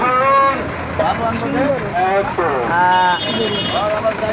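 Cattle at a busy livestock market, with several drawn-out moos and calls rising and falling one after another, close by, over steady crowd and vehicle noise with people talking.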